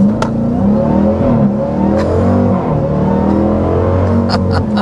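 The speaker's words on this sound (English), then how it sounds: "we're going to start with a hard acceleration." A 2026 Dodge Durango Hellcat Jailbreak, a supercharged three-row SUV, accelerates hard from a standstill, its engine giving a loud, steady, sustained roar that rises through the gears, heard from inside the cabin.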